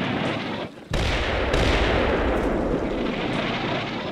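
Heavy artillery fire in the video game Combat Mission during a US city fight, heard as a broad, continuous rumbling roar, briefly cut off near the start, with sharp detonations breaking through the dense barrage.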